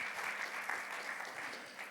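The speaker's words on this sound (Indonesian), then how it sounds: "Berikan tepuk tangan bagi Tuhan Yesus" A church congregation claps at a Sunday service, a dense steady wash of applause from many hands.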